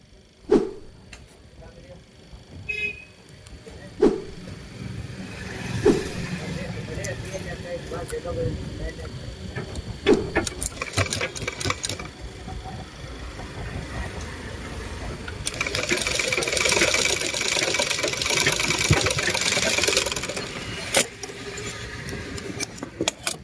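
A sewing machine stitching thick fabric while skipping stitches and breaking thread: close, rhythmic mechanical clatter that starts, stops and surges across the stretch, with a person talking over it at times.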